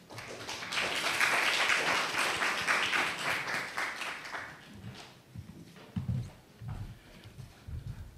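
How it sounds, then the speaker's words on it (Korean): An audience at a Pangyo startup investment exchange event applauds to welcome a speaker, a dense clapping wash that swells early and fades, giving way to scattered low thumps and faint noises. "그럼 큰 박수로 맞이해 주시면 감사하겠습니다"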